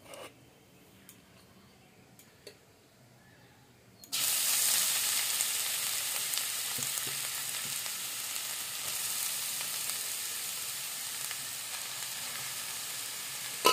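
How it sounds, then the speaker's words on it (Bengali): Grated carrots, about a kilogram, drop into melted hot ghee for carrot halwa, and after a quiet start a loud, bright sizzle bursts in and carries on steadily up close. "এবার দিয়ে দেব এড করে নেওয়া গাজরগুলো দিয়ে দেব ঘির উপরে"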